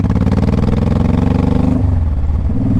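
A 2005 Honda Shadow Sabre 1100 motorcycle running close and loud, its pulsing engine note dropping briefly as it shifts gear before picking up again.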